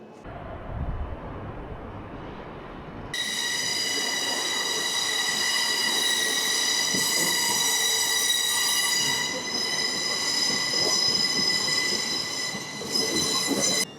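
An LNER Azuma Class 800 train runs steadily with a loud, continuous rolling rumble and a strong high-pitched whine or squeal that sets in a few seconds in and holds to the end, with no voices.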